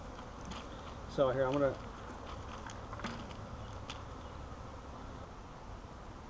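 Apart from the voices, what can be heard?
swarm of honey bees buzzing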